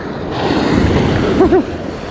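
Heavy surf breaks on a beach during surf fishing, a steady rushing roar of waves near the shore with a brief vocal sound toward the end.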